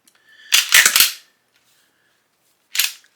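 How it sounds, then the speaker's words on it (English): Metallic clacks of a Remington 870 pump-action shotgun, the action slid and closed on an empty chamber: a quick rattling cluster of sharp clicks, a pause, then one more crisp clack, close and loud. "Close the bolt on an empty chamber."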